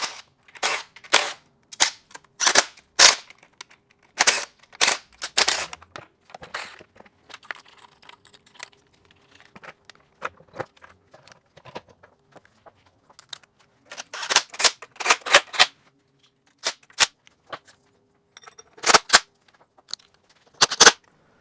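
Power tool, likely an impact driver, running bolts back into the intake of a Kia/Hyundai V6 engine during assembly, in several sharp bursts of rapid rattling with short pauses between groups.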